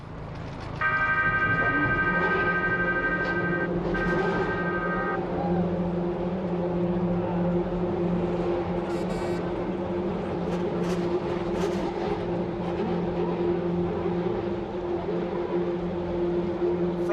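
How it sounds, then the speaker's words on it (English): A1GP race car engines start up on the grid at the Brno feature race, a dense, loud, steady engine drone with a brief tonal horn-like burst early on, heard at a distance without clear speech. "Gentlemen, for the pride of your nation, start your engines."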